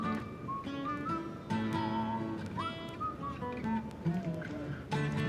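Whistled melody from a song, soft and fairly quiet, drifting over gentle acoustic guitar and backing in short melodic phrases.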